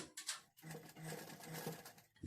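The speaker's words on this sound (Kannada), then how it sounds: "ಮೊದಲಿಗೆ ರಫ್ ಸ್ಟಿಚ್ ಹಾಕ್ಕೊಂಡು ಸ್ಟಿಚ್ ಮಾಡ್ಕೊಳ್ಳಿ" A sewing machine runs steadily throughout, stitching a zigzag pico edge along a saree fall, with a brief pause early on before the close, busy whirring resumes.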